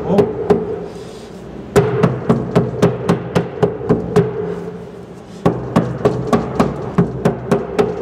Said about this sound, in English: So I'm going to pack that down as basically as tight as possible.